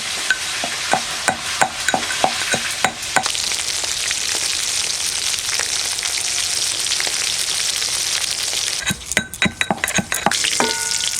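Pomfret fish frying in a pan, a steady loud sizzle with repeated scraping and clinking of a spatula against the pan at the start and again near the end, no talk.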